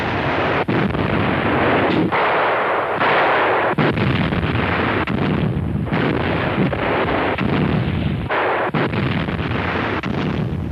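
German 88mm FlaK 36 anti-aircraft guns fire in western Russia in 1944, a loud, continuous rumble of heavy gunfire and blasts with repeated sharp reports cutting through the din.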